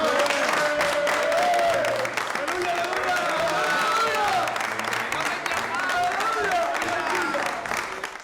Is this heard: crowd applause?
yes